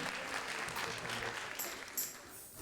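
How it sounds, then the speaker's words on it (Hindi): Audience applause after a Bollywood classics music performance, a steady wash of clapping from a crowd, moderately quiet and continuous, with a couple of brief sharper sounds near the end. "जोरदार तालियां बनती है।"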